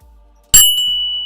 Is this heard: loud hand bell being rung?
yes